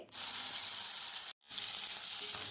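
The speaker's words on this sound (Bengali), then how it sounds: "গাজর আর বরবটিটাকে হালকা করে ভেজে নিতে হবে" Carrots and yardlong beans fry in a wok of hot oil, producing a loud, even sizzle that cuts out abruptly for a moment and then resumes just as strongly, with no talk over it.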